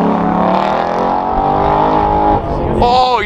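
Race car at Canada's Goodwood festival, its engine roaring loud and close, pitch climbing steadily before a sharp shift and a fresh rising rev at the end.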